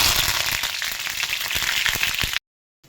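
Mustard seeds, cumin, curry leaves and a bay leaf sizzling in hot oil, a loud dense crackle and hiss that continues steadily, then cuts off abruptly.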